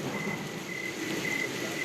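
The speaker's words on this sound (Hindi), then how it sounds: "हल्की हल्की बारिश शुरू हो गई" Steady soft hiss of light rain falling, even and continuous, with a faint high tone running through the background.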